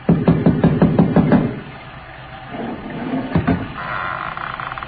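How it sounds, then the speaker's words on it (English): An audio drama door knock made by rapping a bronze idol against a door: a quick series of about six hard, close knocks, then a pause and two more raps, with a faint steady background tone. "I lifted the bronze idol and rapped on the door with it"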